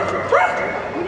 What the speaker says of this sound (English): Is that dog?